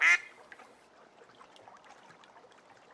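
A voice imitates a duck quacking in a children's story, one short loud nasal quack at the start, followed by quiet background noise.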